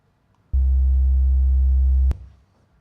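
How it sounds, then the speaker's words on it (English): A pure sine tone from a Moog modular synthesizer plays alone, a clean low steady note that starts abruptly, holds for about a second and a half, then stops with a click. "Then we stack that with the sine wave from a Moog modular just out in the clear."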